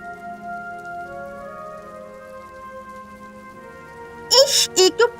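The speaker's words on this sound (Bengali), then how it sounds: "এই দেখো দেখো, বেরোতে না বেরোতে বৃষ্টিটা চলে এলো।" Cartoon rain falls as a soft, steady patter beneath background music, and a voice speaks briefly near the end.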